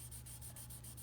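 A tortillion's backside smudges and blends pencil shading across paper, giving a soft, steady rubbing hiss that runs unbroken and close for about a second with no talk.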